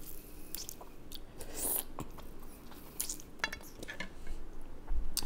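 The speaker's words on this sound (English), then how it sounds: "Break apart some of this blue crab." Cooked blue crab from a seafood gumbo is broken apart by hand, with a run of crisp shell cracks, snaps and wet squishes, plus an occasional clink of dishes, heard close up.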